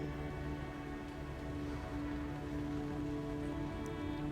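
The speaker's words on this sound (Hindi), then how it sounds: "जयपुर का वेदर बहुत ख़राब हो रखा है, बहुत बारिश हो रही है" Heavy rain pours steadily outside in Jaipur, a constant dense hiss of drops on surfaces with a low steady hum beneath, no voices.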